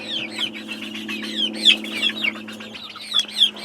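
Olive egger chicks cluck and peep continuously in a brooder, with repeated bright chirps over a low steady hum, close and fairly loud with no voices.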